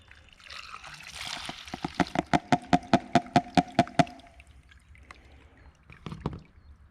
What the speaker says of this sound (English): we're taking the diesel fuel with a bunch of dirt in it, and we'll see how it filters out dirt.